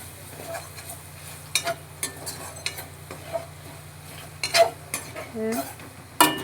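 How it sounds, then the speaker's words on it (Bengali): A spatula stirs chicken and spices in a pan for chicken kosha, giving scattered clicks and scrapes over a soft sizzle and a low steady hum, with no one talking. "এইবার এগুলোকে ভালো করে নাড়াচাড়া করে নিতে হবে"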